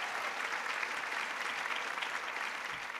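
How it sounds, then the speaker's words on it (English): Audience at a comedy show clapping, a dense steady burst of applause from a crowd that holds even throughout, heard at moderate distance with no voices over it. "Start clapping. Louder, louder."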